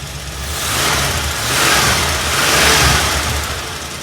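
A Ford F100 pickup truck engine runs loud and close after fuel is added to the carburetor, its rumble swelling and easing in slow waves like gentle revving.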